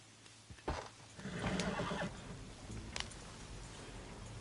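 A video game horse gives a loud, near whinny that swells and trails off over a low rumbling ambience, followed by a fainter snort-like sound, with no speech.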